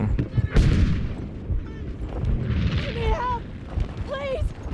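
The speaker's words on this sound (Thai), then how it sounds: "ระเบิดที่เราปาไปนี่ คือมันช้ามากเลยนะ" Battlefield V combat, with grenade blasts and gunfire, gives heavy booms and rumbling bursts, dense and continuous, plus whistling and whining effects, while a player talks over the battle.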